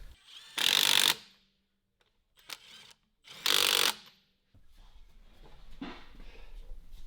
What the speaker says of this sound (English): it's probably wise to put the lug nuts on first